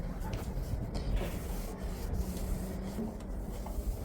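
Soft, continuous rubbing of cloth over a window, wiping off dust in repeated back-and-forth strokes with a light scratchy texture, fairly close and quiet.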